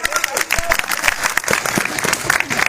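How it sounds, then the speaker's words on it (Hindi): A group in a maths training class bursts into applause, many hands clapping in a quick, dense, continuous burst close by, with voices mixed faintly underneath. "ताली में जाइए।"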